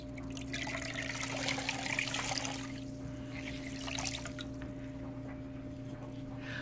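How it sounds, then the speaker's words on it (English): Warm water trickles and drips steadily as a wash rag is wetted, a soft continuous liquid sound over a constant low electrical hum, with no talking. "going to use a wash rag in warm water and wipe it off"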